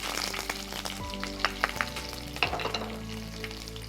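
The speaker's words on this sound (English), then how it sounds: "So we're putting in our sliced onion." Sliced onions hit hot oil in a pan for Goan pork vindalho, giving a steady close sizzle with a few sharp crackles and stirring clatters, no talking.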